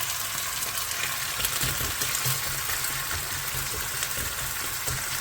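Food fries steadily in a pan, a constant close hiss and crackle with no pauses or voices.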